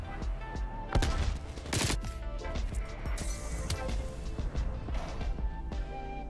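A fake care package exploding in Call of Duty Black Ops Cold War, a loud blast amid dense crackling gunfire and impacts that continue steadily throughout.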